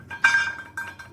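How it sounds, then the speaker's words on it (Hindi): A light object clinks and rattles against a metal bowl, two brief ringing bursts, close and clear. "पहले तो कोई चीज़ हल्की चीज़ डाल के ऐसे ऐसे आवाज़ें कर सकते हैं।"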